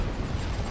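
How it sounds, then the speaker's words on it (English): A dense, low, rumbling blast from artillery in the First World War strategy game The Great War: Western Front, brief and heavy with no voices. "Need to hit this with more artillery"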